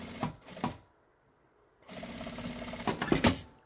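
A sewing machine stitches the lining of a small fabric coin purse in short loud bursts, running briefly twice, pausing about a second, then whirring again near the microphone.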